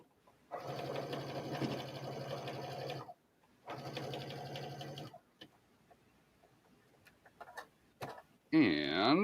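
A sewing machine stitches a seam with about 5/8 inch allowance on a welt pocket for a denim bomber jacket, running in two steady bursts with a pause between, followed by quieter handling noises and a short scratchy clatter at the end.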